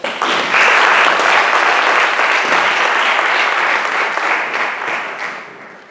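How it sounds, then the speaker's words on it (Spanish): Loud, close audience applause for a round-table panel at a conference, a thick continuous roar of clapping that holds steady before tapering off at the end. "Un aplauso para ellos."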